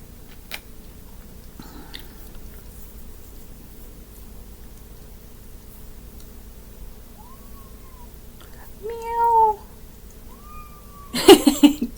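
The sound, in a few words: cat mewing while walking around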